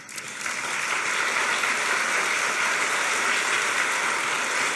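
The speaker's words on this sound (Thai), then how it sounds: "ขอเสียงปรบมือดังๆทีนึงครับ" Audience applause at a Nutrilite Double X Phytoblend training event, a dense, loud, sustained wash of many hands clapping that swells in quickly and holds steady with no talk over it.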